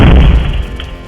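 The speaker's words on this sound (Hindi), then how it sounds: "जोरदार धमाका हुआ।" A single heavy, deep boom from a burning car exploding, loud and close, fading into a low rumbling tail over about a second.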